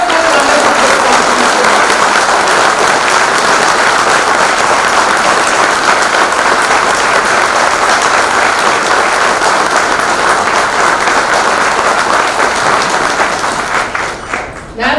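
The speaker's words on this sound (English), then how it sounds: "give a round of applause to each one of you for the wonderful performance" A large audience at an SBI felicitation event for achievers bursts into sustained, loud, dense applause that holds steady for about fifteen seconds before tapering off.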